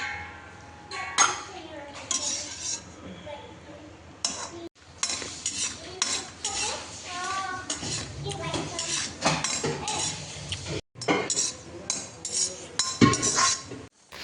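Iron kadhai with ghee and cashews being handled, metal pans and utensils clinking and scraping in irregular bursts, with faint sizzling, voices and kitchen bustle around it.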